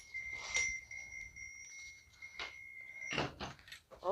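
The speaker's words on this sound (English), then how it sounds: "Oh, it's a little angel bell. Cute little angel bell." A small angel-shaped ornament bell rings with a clear sustained tone, struck once and left to fade while handling knocks and rustles come and go, then a louder jingle near the end.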